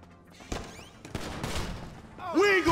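Bursts of gunfire in the crime game Grand Theft Auto V, sharp broadband shots at about half a second and one second, then a sustained rattle of rapid fire with loud shouting voices near the end.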